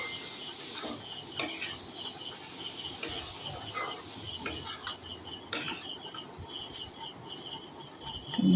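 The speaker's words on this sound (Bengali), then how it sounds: "মশলার সাথে একটু নেড়ে নেব পনিরটা।" Paneer stirred with spices in a pan makes steady close scraping and light metal clinks for several seconds, with a quiet sizzle underneath and no voices.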